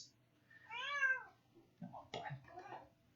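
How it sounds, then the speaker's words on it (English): A cat meows twice, a rising drawn-out call followed by a shorter, rougher one, fairly close in a quiet room. "I've got the cat in here, so you might hear him occasionally."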